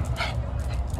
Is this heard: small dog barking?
yes